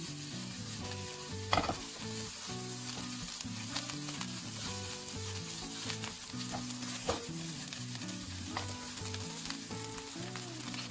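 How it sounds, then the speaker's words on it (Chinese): Rice being stir-fried with soy sauce in a wok, a steady loud sizzle under repeated scraping and tossing strokes, close up with background music and no talk. "每放入1次酱油，都要把米饭和酱油炒得完全融合，"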